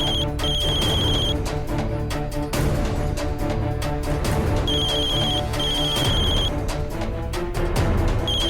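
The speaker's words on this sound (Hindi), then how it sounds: "सूरज को फोन करती हूँ।" A phone ringtone trills in repeated bursts, mixed with loud background music throughout.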